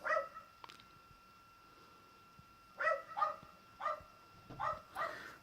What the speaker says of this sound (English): Bloody dogs next door. I'm sure you can hear them on the camera.